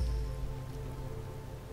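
Quiet, steady rain patters softly on a surface, a faint continuous hiss with a low hum beneath it.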